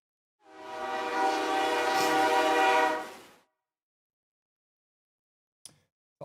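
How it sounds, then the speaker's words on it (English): A train horn blasts for about three seconds, loud and fairly close, then cuts to silence broken by a couple of brief clicks near the end. "I'm trying to see that train"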